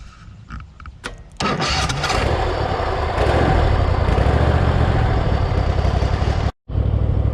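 A Cub Cadet ZT1 zero-turn mower engine cranks with a few short bursts, catches and roars up to a loud, steady running drone, with one brief cutout before it carries on.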